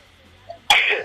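A single sharp sneeze bursts out after a faint inhale, close and loud against a quiet room during an interview.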